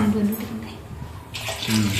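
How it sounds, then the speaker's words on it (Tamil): Water pours into a cooking pot for chicken biryani, a rushing splash near the end of a brief moment with a voice sounding faintly alongside. "போதுமான ஒரு தண்ணி ஊற்றியாச்சு."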